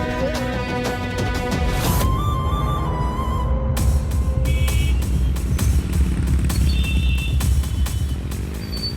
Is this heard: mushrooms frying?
no